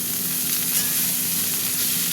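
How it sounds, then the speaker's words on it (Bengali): Banana stem (thor) frying with onions in a pan, a steady close sizzle with soft stirring crackle running evenly throughout, no talking. "এরকম পেঁয়াজের সাথে ভাজা ভাজা হবে,"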